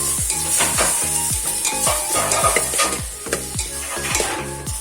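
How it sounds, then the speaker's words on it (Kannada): Tomatoes and green chillies fry with salt in a pan for a Honnavar-style Shetli (shrimp) sambar, a steady close sizzle with repeated stirring scrapes and soft utensil clinks throughout. "ಉಪ್ಪು ಹಾಕೋದ್ರಿಂದ ಟೊಮೆಟೊ ಕರೆಕ್ಟಾಗಿ ಫ್ರೈ ಆಗುತ್ತೆ"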